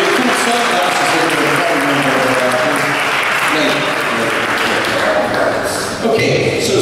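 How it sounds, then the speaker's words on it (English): Steady, close applause from a school audience after an elementary school spring band concert, with voices and some brief tapping sounds mixed into the clapping. "Give them a nice round of applause."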